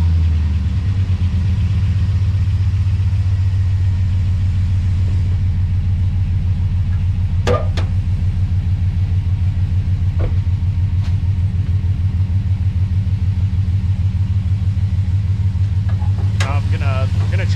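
A truck engine runs at a steady idle, with a loud, continuous low rumble throughout and a few faint clicks and knocks over it; no starting crank is evident.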